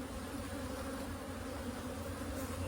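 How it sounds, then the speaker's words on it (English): A steady, dense buzzing hum of many honeybees being shaken from a box into a hive, continuous and fairly close, with no talking. "shake this box and tip the bees into here"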